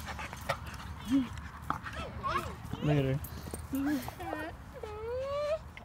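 Pit bull dog whimpering and whining in high, wavering cries through the middle and end, close by, mixed with a voice talking to it.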